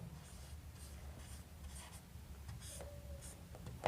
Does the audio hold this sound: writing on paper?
yes